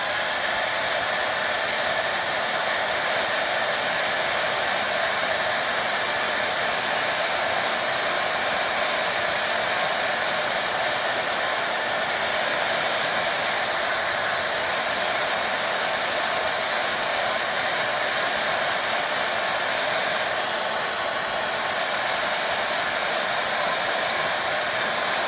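A hair dryer blows steadily, drying a freshly applied IOD Melange paint inlay; the loud, even airy whoosh holds without a break and no one speaks.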